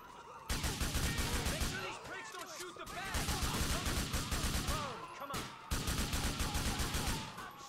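Rapid automatic gunfire fills a heist shootout in the video game GTA IV, arriving in three loud, dense bursts with short breaks between them.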